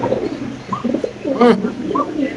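Soft, throaty coos of Spanish pigeons at a pigeon farm come in short rolling bursts, near and fairly clear, over a low background murmur.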